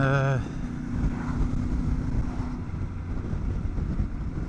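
A CF Moto 450MT motorcycle accelerating in sixth gear, a steady low engine drone under heavy wind buffeting, with a brief rising whine at the start.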